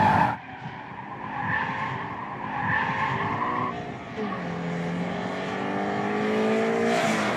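Subaru BRZ with a limited-slip differential cornering hard through a roundabout, tyres skidding and squealing in long sustained howls over a steady, rising engine drone, close and loud throughout.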